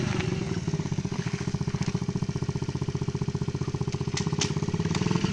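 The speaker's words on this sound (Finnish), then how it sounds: "Siis mopo." A moped engine putters close by in a fast, steady pulsing rhythm, holding a rough mid-pitched drone throughout with a slight swell in loudness near the end.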